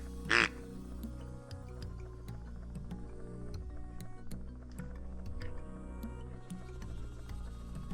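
During a duck hunt, a single short duck quack rings out near the start, then a quiet outdoor background continues with faint ticking sounds.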